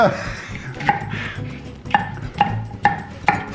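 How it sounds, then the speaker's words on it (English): A 14-inch knife cutting through Chicago deep dish pizza on a large cutting board, several sharp knocks of the blade against the board at an irregular rhythm, close and fairly loud. "use my 14-inch knife to carve them up"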